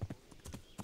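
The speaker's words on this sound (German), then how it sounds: "Wir können einfach mal durch die Festung hier ein bisschen durchreiten" Horse hooves clip-clop in a quick, uneven rhythm while riding through a medieval fortress in Kingdom Come: Deliverance, several close, soft thuds in under a second with no talk.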